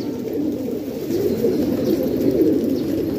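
Pigeons at a loft during pigeon flying, soft continuous cooing from a flock close by, steady and fairly loud with a busy low murmur throughout.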